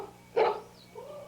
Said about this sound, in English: They have a minute dog, which is already hoarse from years of barking.